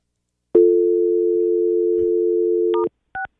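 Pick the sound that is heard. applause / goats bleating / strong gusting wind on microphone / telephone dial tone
telephone dial tone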